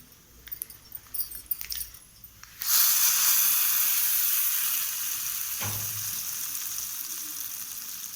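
Hot oil tempering with curry leaves is poured into a coriander chutney and bursts into a loud, sudden sizzle that hisses steadily and slowly fades, after a few light clinking kitchen sounds.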